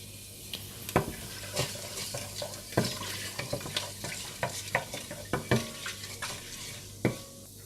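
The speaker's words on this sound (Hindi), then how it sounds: "इसमें मेथी डाल दें, सौंफ और तेज़ पत्ता डालकर थोड़ा सा भून लें" Fenugreek, fennel seeds and bay leaf fry in hot oil for fish biryani, a quiet steady sizzle punctuated by sharp spoon taps and scrapes against the pan at irregular intervals, close up with no voices.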